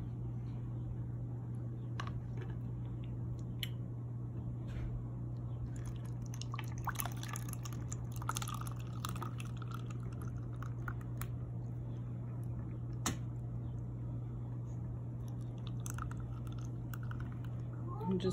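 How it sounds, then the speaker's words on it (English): Homemade liquid soap made from Dove Sensitive bar soap is poured into a soap dispenser, with soft intermittent drips, gloopy pours and small clicks over a constant low electrical hum. "I'm just filling up one of my soap dispensers."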